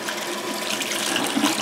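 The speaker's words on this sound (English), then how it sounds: "Let's go for a rinse." Running water rinses a hedgehog during its bath, a steady close splashing and trickling flow from a tap that continues without a break.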